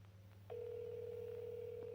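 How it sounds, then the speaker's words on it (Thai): A telephone dial tone in a horror video game, a steady close electronic hum starting abruptly after a click and holding level over a low background drone. "ฉันจะขอความช่วยเหลือ โทรศัพท์ โทรศัพท์ โทรเก้าหนึ่งหนึ่ง"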